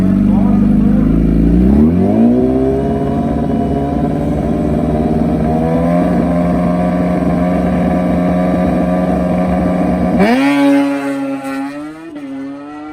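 A drag racing motorcycle roars down the strip on its first run, engine revving and climbing in pitch through several gear shifts, loud and close, with crowd or commentary noise mixed underneath.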